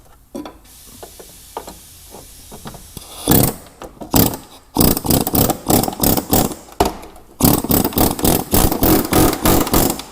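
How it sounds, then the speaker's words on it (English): A pneumatic air hammer rattles loudly against Ford F250 truck body metal during rust repair, in rapid, repeated bursts after a quieter stretch of faint clicks and hiss. "we're going to make a little noise here with the air hammer"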